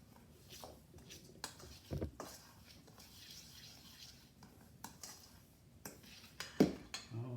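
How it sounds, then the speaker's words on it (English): Dry whole grain waffle ingredients mixed in a bowl, with scattered clinks and scraping taps of a utensil against the bowl, a couple of sharper knocks standing out, moderately quiet and close. "I'll go ahead and mix that up a little bit"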